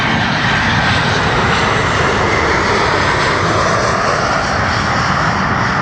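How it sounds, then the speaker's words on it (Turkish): Turkish Airlines airplane engine roaring loud and close, a continuous broad rushing drone that holds steady throughout with no talk. "İşte Numan Yasavul'un Türk Hava Yolları'na armağan ettiği yeni uçak"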